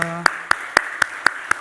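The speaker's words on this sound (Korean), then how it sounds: "우리가 박수로 환영하겠습니다" Slow, evenly spaced claps ring out at a church service to welcome new members, about seven sharp single claps in a steady rhythm.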